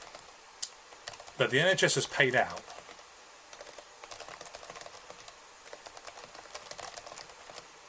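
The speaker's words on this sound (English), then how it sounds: "I'm typing now." Fast, irregular clicking of computer keys close by, running under a voice and continuing through pauses in his talk.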